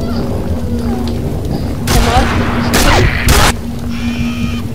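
Bursts of gunfire from the Combat Arms shooter game, a few loud crackling volleys over a steady low hum, with faint background sounds between them.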